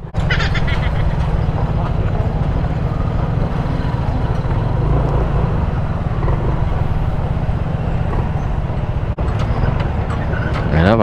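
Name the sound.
road traffic on Old Zigzag Road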